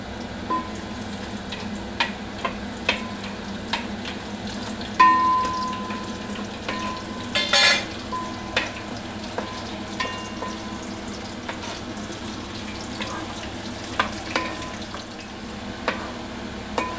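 Whole garam masala spices and a bay leaf sizzle in hot oil with a steady frying hiss, punctuated by scattered stirring clinks and taps from a spoon against the pan.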